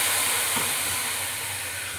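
Water poured from a cup onto rice fried in a hot pan for basanti pulao gives off a steady, close, loud hiss of steam that fades slightly toward the end.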